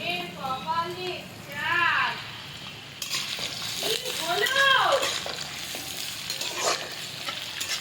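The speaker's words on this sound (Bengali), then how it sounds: "এবার সরিষার তেলে পেঁয়াজের বেরেস্তাটা ভেজে নিচ্ছি।" Onion slices fry in mustard oil with a soft, steady sizzle and occasional stirring, heard under someone talking.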